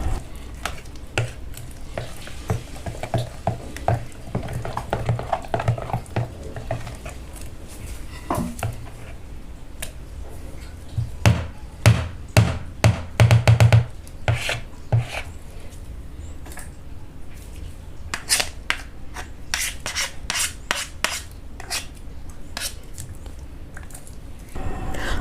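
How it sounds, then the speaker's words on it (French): A spatula stirs a thick homemade moisturizing and nourishing cream in a bowl, making repeated scraping clicks and soft wet smears that come in irregular bursts, close up and steady throughout, with no talking. "Je vais venir mélanger."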